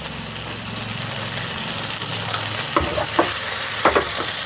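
Farali uttapam fries in oil on a tava, a steady close sizzle with a few scraping stirs or spatula touches toward the end, no voices.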